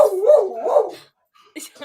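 A pet dog barks and yips twice in quick succession close by, followed by a brief silence and a few fainter yelps.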